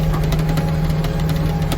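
A farm tractor engine labours through drifted snow on a track, a steady, loud low drone with a constant hum and slight rhythmic pulsing.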